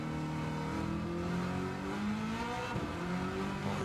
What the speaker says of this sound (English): Oh, the engine on this one sounds so good.